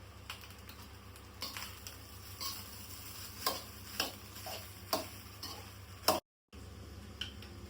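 Egg fried rice with chili powder, salt and pepper is stirred in a pan on the street, giving quiet sizzling and scattered metallic clicks of a spatula, with one brief dropout.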